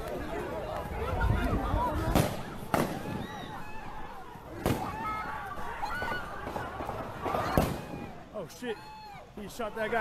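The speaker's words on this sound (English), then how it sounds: "he shot that guy in the stomach" Gunshots ring out during a street riot, sharp loud cracks at scattered intervals over crowd shouting, running and general commotion, with people talking throughout.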